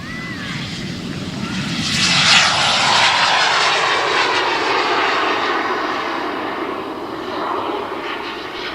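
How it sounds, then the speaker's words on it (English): Radio control jet airplane flying at a fun fly event, a loud roaring turbine whine that swells as it passes close by and then holds steady before easing slightly, with faint voices nearby. "But it sounds like a real jet, doesn't it? That's because it is."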